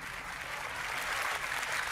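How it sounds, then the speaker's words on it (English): An audience at a women's storytelling showcase applauds steadily, a dense, even wash of clapping that holds at full strength for the whole stretch with no voices over it. "can we just give a round of applause for all the people that were brave enough to come up and share their stories?"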